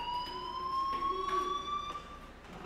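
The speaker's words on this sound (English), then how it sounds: "do you hear that fire alarm? That means you should be outside." Fire alarm in the video game Life is Strange, a steady electronic wailing tone with sliding pitch that sounds continuously and fairly loud through the short stretch, with no talking over it.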